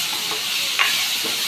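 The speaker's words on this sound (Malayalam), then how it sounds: "ഇനി നമുക്ക് ഒരു ബൗള് തക്കാളി ഇത് ഇത്രയും ഇട്ട് നല്ലപോലെ വഴറ്റുക." Tomatoes sautéed and stirred in a pan for a simple South Indian tomato curry, a steady close sizzle with a brief scrape of the spoon partway through, no voices.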